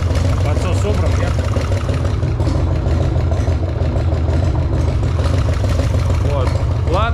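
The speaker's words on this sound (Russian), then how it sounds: "это стучит гидрик" A Harley-Davidson Sportster engine idles loud and close at operating temperature, a steady low rumble with a fine repetitive knocking suspected to be a hydraulic lifter in the front cylinder, with people talking over it.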